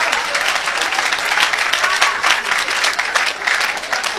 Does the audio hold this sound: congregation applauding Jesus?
yes